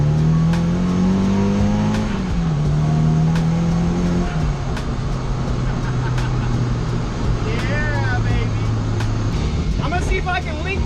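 A Nissan 240SX's turbocharged engine holds a steady loud drone around 2,000 RPM, its pitch stepping down slightly in stages, with faint turbo whistle and chirps near the end and a voice talking over it.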